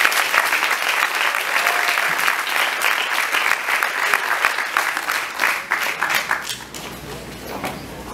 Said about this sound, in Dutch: mag ik jullie aandacht en een welgemeend applaus voor Vulgor Esaias.